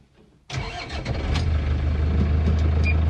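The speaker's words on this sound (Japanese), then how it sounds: "はい、エンジンをかけて" Kubota KL53Z tractor engine starting: a short quiet lead-in, then the diesel catches abruptly and settles into a steady, loud low idle.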